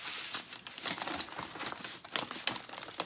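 A plastic bag crinkles and rustles in close, irregular bursts as celery is pulled out of it in a kitchen, with sharp crackles spread across the whole stretch.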